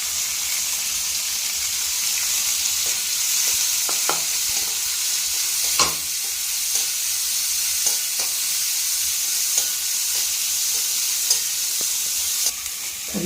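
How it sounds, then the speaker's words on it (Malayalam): Shallots and green chillies sauté in a hot pan, giving a constant loud sizzle with light scraping and stirring clicks scattered throughout, close by and without talk. "ചുവന്നുള്ളി, 2 പച്ചമുളക്, എല്ലാം കൂടെ നന്നായിട്ടൊന്ന് വഴറ്റിയെടുക്കണം."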